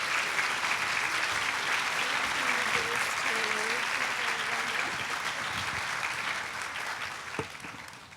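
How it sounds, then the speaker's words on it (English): Steady, dense applause from a luncheon audience fills the room at full strength, then thins slightly toward the end, with faint voices briefly audible within the clapping. "Let's applaud all of these incredible people."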